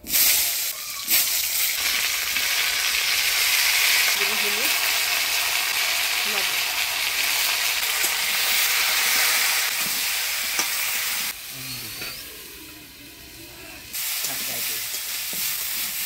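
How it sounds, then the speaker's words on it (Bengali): Potatoes and cauliflower frying in oil in a home kitchen pan give a steady, loud broadband sizzle that runs the whole time. It dips briefly near the end, and a faint voice seems to come through at moments. "এবার আলু আর ফুলকপিটা ভাজি নিব।"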